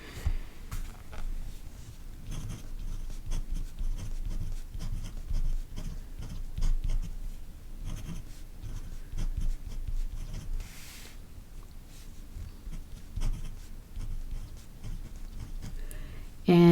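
A fountain pen inked with Diamine Writer's Blood drags and scratches across paper while drawing and sketching, a soft, continuous close-up rasp of nib strokes with faint low rumble beneath.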